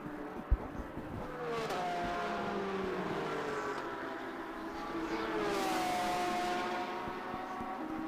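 Race cars circling the Road Atlanta track during a SpeedTour race, engines droning steadily at mid distance with pitch sweeps as cars pass and shift, a brief sharp knock near the start, and no talk.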